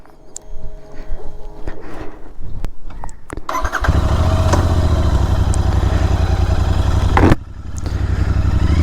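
A Royal Enfield GT 650 motorcycle starts after a few clicks and clunks, then settles into a loud, close, steady idle with a throaty rhythmic pulse and one brief blip of the throttle.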